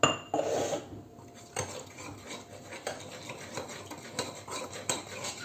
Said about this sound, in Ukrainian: І все розмішую, щоб не було грудочок